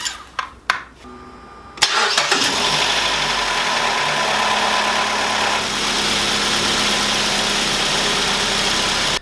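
A few clicks, then a Nissan S13 KA24DE car engine cranks and catches after an oil change, settling into a steady, loud idle close by.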